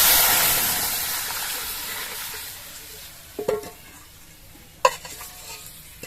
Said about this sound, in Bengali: জিরের গুঁড়োটা দিয়ে সঙ্গে সঙ্গে ডালটা দিয়ে দিতে হবে না হলে জিরে গুঁড়োটা পুড়ে যাবে